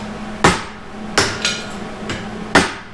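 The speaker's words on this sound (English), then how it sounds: "now what I'm gonna do is get in there and chip away at more of those like little slag balls" A hammer chips welding slag off a steel Dana 60 front axle knuckle from a 2004 Super Duty: five sharp metallic taps, close and loud, spaced irregularly over a few seconds against a low background hum.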